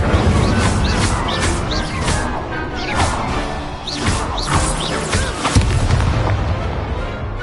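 Spell duel effects in a Hogwarts video game, with repeated booming blasts, crashing impacts and whooshing bursts firing in rapid succession over several seconds, loud and dense, with no talking.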